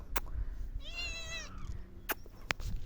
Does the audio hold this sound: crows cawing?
no